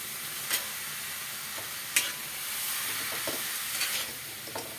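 Potato, papaya and spices sautéed in a pan, a steady moderate sizzle with occasional sharp clinks and scrapes of a stirring spoon, close and alone.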